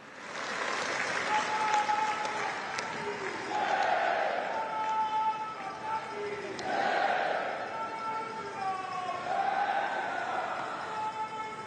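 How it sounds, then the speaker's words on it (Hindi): A large crowd at a public rally in Navsari claps and cheers to welcome Prime Minister Narendra Modi, with rolling applause and shouts rising and falling in waves, heard from some distance. "माननीय प्रधानमंत्री श्री नरेंद्र मोदी जी को आइए जोरदार तालियों के साथ आमंत्रित करते हैं"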